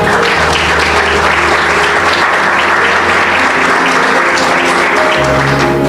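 A church congregation applauds for the Lord, loud continuous clapping from many hands layered over sustained organ or keyboard tones, steady throughout with little talk.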